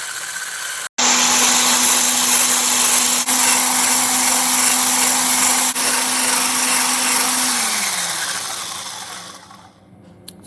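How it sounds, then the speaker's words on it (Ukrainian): An electric mixer whips egg whites with sugar, a loud continuous whir with a steady motor tone that holds for several seconds, then drops in pitch and fades as it slows to a stop. "Збиваємо спочатку на середній швидкості, пізніше збільшуємо до максимальної."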